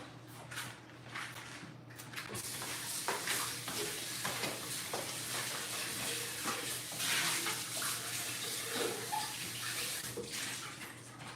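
Tap water runs steadily as produce is rinsed under the faucet before juicing, a continuous close splashing rush with small clatters and shifts as the items are turned in the stream.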